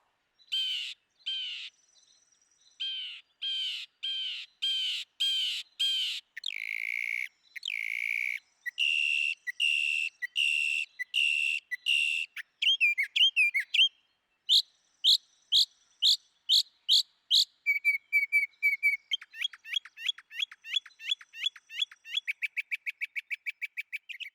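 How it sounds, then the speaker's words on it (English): A single northern mockingbird in a quiet Florida state park sings a long run of varied whistles, chirps and trills, repeating each phrase in quick bursts before switching to the next, clear and close with no other sound. "A mockingbird can have a repertoire of over 100 calls."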